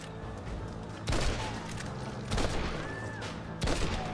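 Gunfire in the video game Red Dead Redemption Undead Nightmare rings out as three separate loud shots spaced about a second apart over a steady ambient backdrop.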